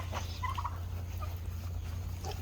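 Turkeys on a farm gobble in short, bubbling bursts over a low, steady background hum, heard at a moderate distance with no talking.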